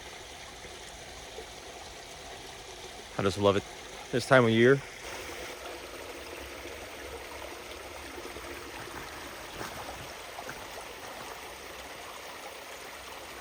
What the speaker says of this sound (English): I've actually walked down this creek for a while, and I wanted to grab some pictures of this little waterfall